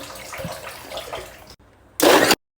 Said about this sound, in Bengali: এখন একটু পানি দিচ্ছি।